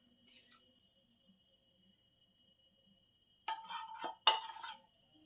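A spoon stirs a liver patty mixture with flour in a bowl, two short scraping, clinking bursts near the end after quiet, close and moderately loud.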